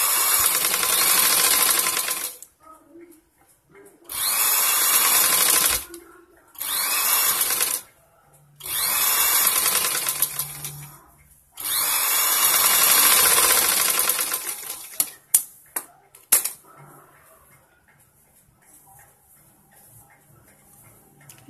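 A sewing machine stitches a blouse with a double line of stitching, running in several loud bursts of steady whirring separated by short pauses, then stopping as a few sharp clicks and faint handling sounds follow.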